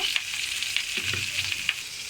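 Hilsa fish sizzles steadily in a pan of hot oil, with eggplant and potato frying alongside, a continuous close crackle broken by a few soft clinks and stirring sounds and no talk.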